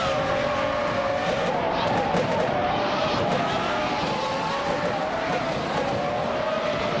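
F1 1996 race cars screaming around Albert Park in a racing game, a steady high engine whine with rising and falling pitch from cars running close together, loud and continuous, with a commentator's voice running over it.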